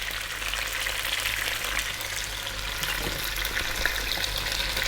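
Ingredients for a meat bone broth spluttering and sizzling steadily in a hot pan, a dense, continuous close-up crackle with no breaks.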